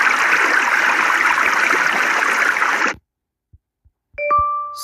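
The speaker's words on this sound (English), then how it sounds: "This sound effect is only used for water ambiences, water sounds, etc." Steady rushing water fills the first three seconds, loud and continuous like a stream, then cuts to silence before a couple of soft ticks and a short ringing chime.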